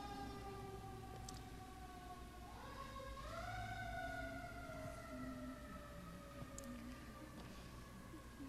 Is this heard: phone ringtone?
no